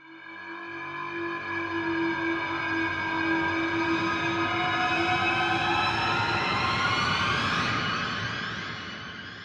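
Cinematic sound-design sample from the Vienna Smart Hits library: a loud, sustained tonal swell with a bright, metallic harmonic stack that builds and sweeps upward near the end, heard alone without speech.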